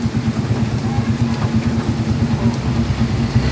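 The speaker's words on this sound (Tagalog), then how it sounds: "Ang lakas ng ulan. Sobra." Heavy rain pours steadily in the Philippines, a dense, continuous wash of noise with a low rumble beneath, loud and unbroken throughout with no clear voices.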